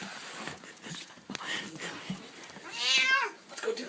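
A cat gives a clear, drawn-out meow near the end, loud and close, after scattered thumps and scuffling from people trying to reach it while it is up high.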